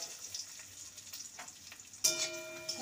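Pumpkin pieces fry in a covered pan, giving a soft, quiet sizzle. Partway through, a brief clatter is followed by a louder, brighter crackle.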